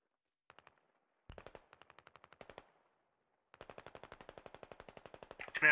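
Machine gun fire in the tactical shooter Squad: short bursts of sharp, evenly spaced shots, a few separate volleys and then a longer sustained rattle at moderate distance, with no voices.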